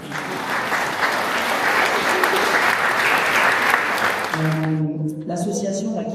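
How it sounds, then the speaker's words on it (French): Audience at a Sunday church festival and blessing in France applauds in a loud, dense, sustained wash of clapping, with a voice beginning to speak as the applause fades at the end. "je crois qu'on peut les applaudir"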